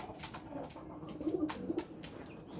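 Pigeons resting on the floor of a loft coo softly in low, rolling phrases, fairly close and unaccompanied by speech.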